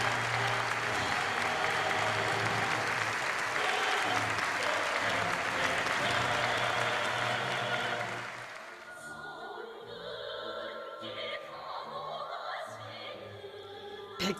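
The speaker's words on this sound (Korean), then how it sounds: "열광적인 박수가 터져올랐습니다" Enthusiastic applause from a large audience at a stage performance, a dense, steady roar of clapping for about eight seconds that then fades into softer scattered clapping and hall ambience.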